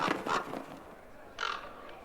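Bird calls in the fantasy game Dragon Age: Inquisition: two harsh, crow-like caws close together at the start, then one more after a short pause, fairly loud and alone against faint background.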